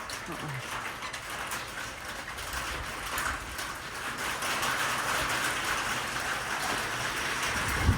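Rain from an approaching thunderstorm band makes a steady, broad hiss that swells slightly over the eight seconds, with a low rumble underneath.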